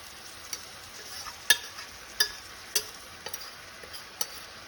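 Biryani vegetables cook in a pan over a high flame, a faint soft sizzle under a series of sharp utensil taps and scrapes as they are stirred, spaced irregularly.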